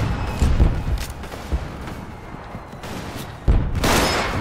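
Gunfire in the Roblox war game Centaura: several sharp, loud shots land in irregular bursts over a constant noisy backdrop, with a heavier blast near the end.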